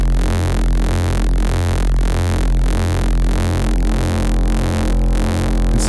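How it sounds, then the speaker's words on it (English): A thick, buzzing saw-wave synthesizer tone from Phase Plant pulses in a steady repeating rhythm, harsh and distorted with rich harmonics and a heavy low end, loud and continuous. "when you put this through distortion, let's just say I add distortion to this"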